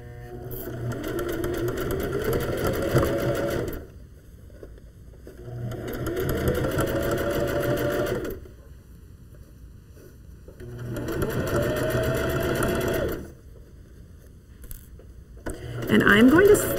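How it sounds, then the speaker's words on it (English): A home sewing machine runs a narrow zigzag along a 3/8 inch seam on a wool mitten lining. It sews in three long, loud bursts, each a few seconds long, with short pauses between them and little talk. "So we're going to start stitching here, 3/8 inch seam allowance again, and again on a narrow zig."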